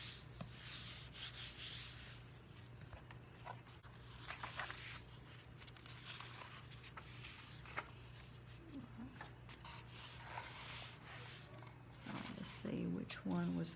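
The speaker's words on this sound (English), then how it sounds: "I like to take and just close the book and kind of press it out" A junk journal is being closed and pressed flat by hand, giving soft, continuous paper rubbing and shuffling over a steady low hum, with a slightly louder handling burst near the end.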